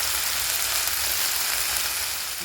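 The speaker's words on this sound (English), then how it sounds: "That's my dinner sizzling" Food sizzles steadily in a hot pan, a dense, even crackle of chicken and vegetables frying while camping, with no voices, close and continuous.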